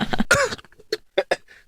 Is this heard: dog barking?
no